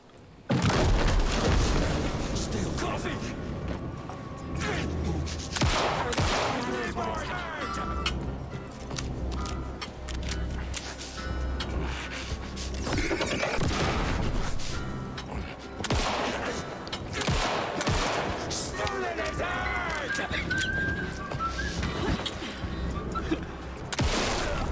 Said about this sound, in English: Gunshot sounds pretty good.